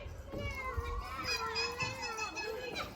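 A deep rumble of thunder during a storm near Chicago, heard from inside an Airstream trailer, swells and rolls for about a second, then fades into steady rain hiss, with no talking.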